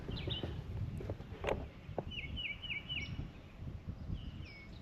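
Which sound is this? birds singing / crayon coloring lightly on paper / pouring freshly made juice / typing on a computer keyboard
birds singing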